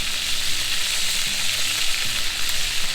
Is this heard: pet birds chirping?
no